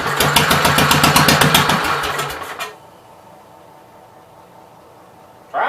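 A Kohler K241 engine from a Gravely 424 cranks and sputters with a rapid, loud chugging rhythm for a couple of seconds, then cuts out to near silence before a brief restart at the end.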